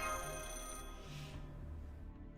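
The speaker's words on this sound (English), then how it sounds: "Is that a phone?" A telephone rings in Fate/Grand Order, a steady electronic trill sounding alone against a low hum, fairly quiet and continuous before cutting off.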